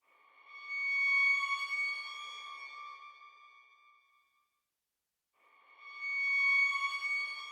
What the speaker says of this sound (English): Just a really haunting violin sound that it just fits the vibe